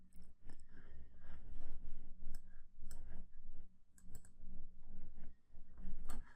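Mouse clicks while working in an Excel spreadsheet, sharp clicks scattered at intervals over a steady low hum and room noise, close to the microphone.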